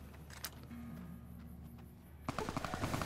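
Gunfire in Fallout New Vegas, a single sharp shot followed by a burst of rapid automatic fire near the end, fairly quiet over a low game ambience.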